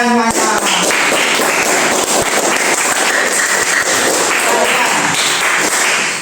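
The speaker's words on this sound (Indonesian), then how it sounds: "Oke, tepuk tangan semuanya." Junior high students in a classroom at SMP Puncak Darusalam break into loud, close applause, a thick unbroken wash of rapid clapping that lasts about six seconds.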